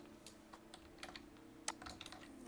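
Typing on a computer keyboard, quiet irregular clicks and taps in quick bursts, close but faint, with no talking.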